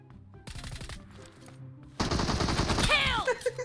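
Rapid gunfire in the mobile battle royale game PUBG Mobile, a short automatic burst followed by a longer, louder sustained volley, close and punchy, with a voice briefly heard between bursts.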